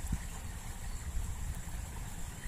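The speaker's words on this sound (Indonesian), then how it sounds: "Itu kayak ada suara diesel ya" Faint, distant diesel engine running out among rural rice fields, a low steady rumble under light open-air background noise, no voices.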